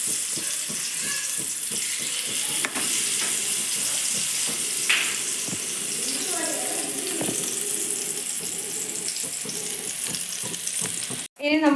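Sardines frying in oil in a pan make a loud, continuous close-up sizzle that crackles steadily throughout, with a brief clatter near the end.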